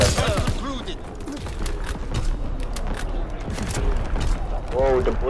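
Gunfire in the World War II shooter Call of Duty WWII comes as rapid bursts of shots and impacts, with voices talking over the combat throughout.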